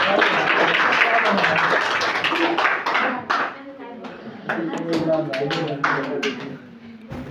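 An audience claps for a student being honoured at a Bihar Day ceremony at Sarari Premchand High School in Siwan, a loud burst of many hands that thins into scattered claps, with a voice speaking over it.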